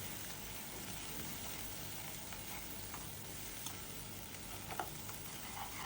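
Turmeric and chili powder frying in a pan, a faint, even sizzle with light scattered ticks of stirring, steady and unaccompanied by voices.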